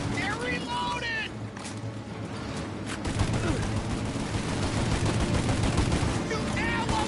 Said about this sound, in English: Shoot out their gun when there's a break in the fire!